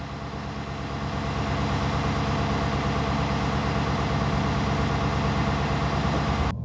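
A Ford F-350 truck engine idles steadily in a garage with the door open, a loud, even low rumble that holds throughout before cutting off abruptly at the end.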